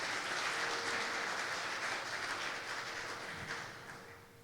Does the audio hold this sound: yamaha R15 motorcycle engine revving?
no